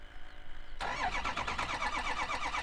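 A truck engine cranks and catches, then settles into a steady, rumbling idle with a rhythmic pulsing throb, close and continuous.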